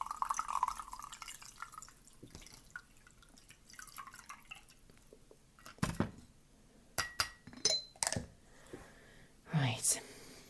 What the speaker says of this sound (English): Let's give this a bit of a stir.